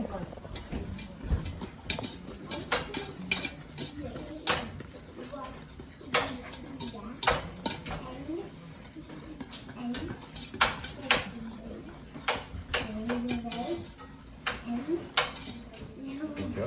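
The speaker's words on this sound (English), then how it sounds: "Mix it all up so it all looks the same" Dry ingredients for Nilla wafers are mixed in a bowl with irregular clinks and scrapes of a utensil against the bowl, while people talk over the clattering throughout.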